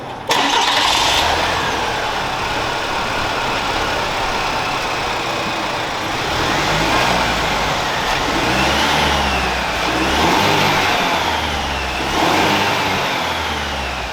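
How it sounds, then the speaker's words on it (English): A Chevy 1500 pickup's 2.7-litre turbo four-cylinder engine cranks and fires, then idles and revs in several rising and falling surges, with turbo whine audible over the engine note, close and fairly loud. "you can hear that turbo spool up, which is kind of cool"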